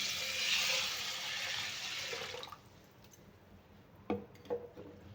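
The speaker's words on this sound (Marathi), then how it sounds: "आता घालूया याच्यामध्ये पाणी" Water pours in a steady rushing stream onto half a kilo of sago in a container for a couple of seconds, then stops, followed by a few soft knocks and splashes.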